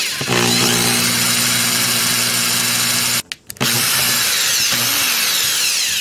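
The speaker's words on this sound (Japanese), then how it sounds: "もうこれ直接穴開けていきます。" A power drill boring a 2.5 mm pilot hole in aluminium, with a loud steady whine that stops briefly partway through and then resumes, close and alone.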